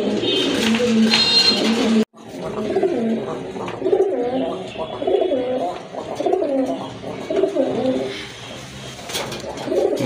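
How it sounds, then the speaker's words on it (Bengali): A pair of coffee-coloured Rajgolla pigeons cooing close by in soft, rolling repeated calls, after a brief burst of rustling and a sharp cut at the start. "এই যে দেখেন আরেক জোড়া কবুতর, এটা হচ্ছে আপনার রাজগোল্লা কবুতর।"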